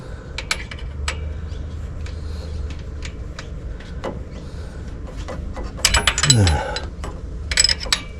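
Ratchet wrench with a 9/16 socket tightening a bolt on a car, a series of sharp clicks and quick ratcheting rasps close by, with some metallic clatter and no talking.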